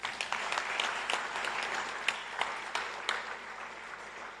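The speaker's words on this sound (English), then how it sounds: "Can we give a round of applause to the Deputy Minister?" Applause from an outdoor crowd at a government bicycle distribution event with the Deputy Minister of Transport, a faint, somewhat distant spattering of claps with a few sharper individual hits.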